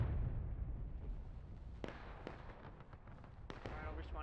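Distant artillery fire in the Civil War game War of Rights: several sharp booming bursts land over a steady low rumble of battlefield ambience, fairly faint and scattered across the stretch.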